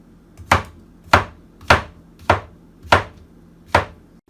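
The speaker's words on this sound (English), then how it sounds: "just keep chopping those vegetables" A knife chops vegetables on a cutting board in a home kitchen, six sharp, evenly spaced thuds at a steady rhythm, close and clear with no talking.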